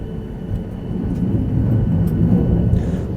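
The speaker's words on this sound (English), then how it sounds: "I did see in the window there were 4 F-16s waiting to line up for takeoff, waiting for us, and here they go off." Four F-16 fighter jets taking off from a runway, heard from inside a parked Southwest 737 Max 8 as a loud, steady low jet roar with a rising hiss near the end.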